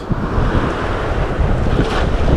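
Strong wind blows on a beach while a cast net is thrown, a loud steady rushing roar buffeting the microphone, mixed with surf noise and no voices.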